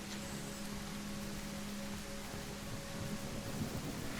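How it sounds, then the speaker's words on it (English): Heavy rain pours steadily in the survival game The Isle, a dense, loud, unbroken hiss with a faint low rumble of thunder beneath it throughout. "You might just get like your hearing lost by the loud rain noises."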